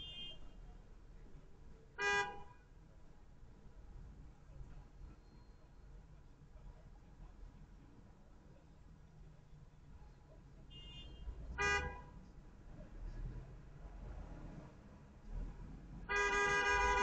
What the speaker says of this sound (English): I'm going to show you what I was looking at when he was using the horn